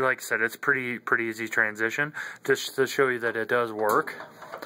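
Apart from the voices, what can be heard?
No everyday noises stand out.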